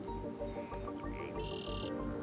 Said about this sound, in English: I can hear the bees buzzing and the birds.